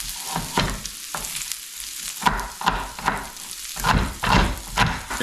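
Mixed red and white onions sizzle and fry in a pan over a gas flame, with steady crackling broken by repeated louder bursts of stirring.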